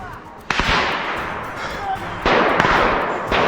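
Sharp bangs burst out at intervals, loud and close, each trailing into a noisy rumble, with a voice shouting in the background.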